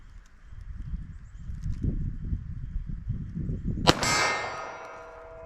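A pistol firing hard cast ammunition at 25 yards lets off one sharp, loud crack followed by a ringing metallic decay, after several seconds of quiet shuffling and handling noise.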